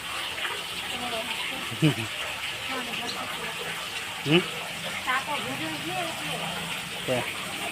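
Water gushes steadily into a water tank from a running supply with a continuous rushing hiss, while brief squeaky sounds and a faint voice pop up now and then.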